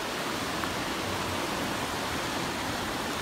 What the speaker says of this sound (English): It's a nice little river.